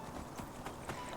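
Donkey hooves walking in the game Enderal, a soft, regular clip-clop of three or four steps, faint and fairly close, with no voice over them.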